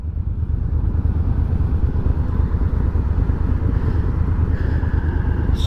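A motorcycle engine runs close by with a loud, steady low rumble that holds through the whole stretch, with no talking over it.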